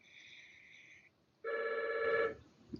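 A telephone rings in a classroom during a geometry lesson, two ring bursts with a pause between, clear and fairly close, with no talking over it.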